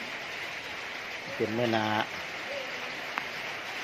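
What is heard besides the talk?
rain falling in the evening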